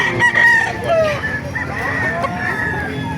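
Several roosters crow one after another at a chicken market in Calumpit, Bulacan, loud and close, with clucking hens and faint chatter in the background.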